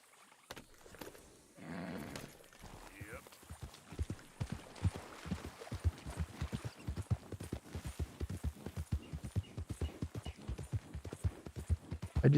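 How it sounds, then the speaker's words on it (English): Horse hooves clip-clopping in the video game Red Dead Redemption 2, a steady rhythmic walking gait of many close, distinct hoof strikes over a quiet background. "I think that's his horse."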